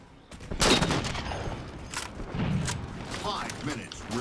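Gunfire in Halo: MCC, several sharp bursts of shots spread across the moment with loud impacts, while a voice talks throughout.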